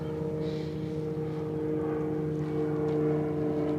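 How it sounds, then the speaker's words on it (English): A propeller airplane drones steadily overhead, a constant humming engine tone that swells slightly toward the end. "I hear a plane."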